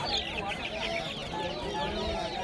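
Many native chickens cluck and chatter together at a busy, noisy livestock market in Mukkudal, India, with faint voices mixed into the steady flock sound.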